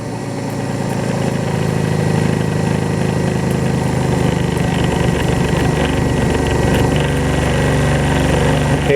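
Electric motor in a lab running at 1458 RPM on 60 volts and 1.2 amps, a loud steady hum with an even mechanical drone and light vibration that holds constant throughout.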